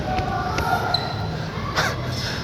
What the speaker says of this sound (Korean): 자, 드리블 스텝에 치셔야 돼요.